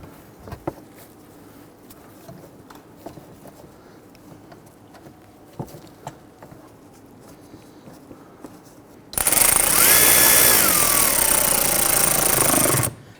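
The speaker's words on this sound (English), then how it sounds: "You can actually hear the impact driver bogging down a little bit as it seats." Impact driver sinking screws into ductwork while a front bumper cover is replaced on a 2011-2023 Dodge Charger 3.6L V6. Quiet handling and tapping come first, then a loud, near, four-second rattling burst that bogs down slightly as the screw seats.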